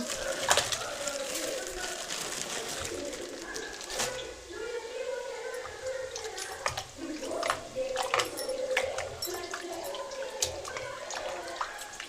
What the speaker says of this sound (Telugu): ఇప్పుడైతే చికెన్ కడిగేద్దాము